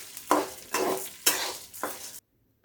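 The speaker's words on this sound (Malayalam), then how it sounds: "ഉഴുന്ന് ചേർത്ത് നന്നായി വറുക്കുക." Urad dal dry-roasting in a pan for idli powder, stirred in four distinct scraping sweeps with a dry rustling sizzle, close and fairly loud, ending abruptly in silence.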